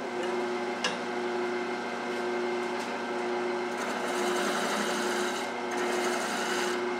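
A wood lathe spins steadily while a tool refines the bottom of a natural edge bowl, a continuous close hum with a faint scraping texture and occasional light clicks, no talking.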